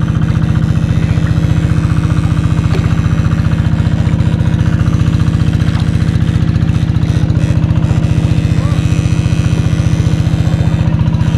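A small engine runs a pump draining a muddy fishpond, a loud, steady, rapid chugging drone that holds an even rhythm throughout with no talking over it.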